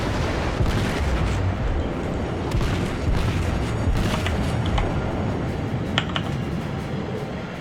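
Naval guns thud and boom in World of Warships amid a dense, loud battle rumble, with several sharper cracks and impacts scattered through the noise.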